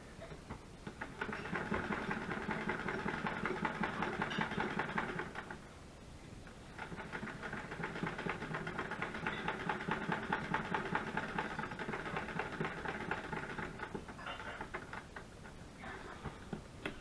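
A sewing machine stitching small junk journal tags, running in two long steady bursts of rapid mechanical whirring and ticking with a short pause between, close and fairly loud with no talking.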